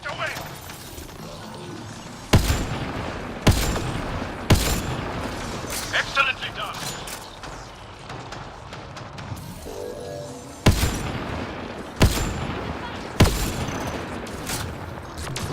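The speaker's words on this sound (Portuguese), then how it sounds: "Consigo acertar o tiro" Gunfire in the video game Mass Effect Andromeda rings out as a series of sharp, loud shots at irregular intervals, with someone talking over the background of the battle.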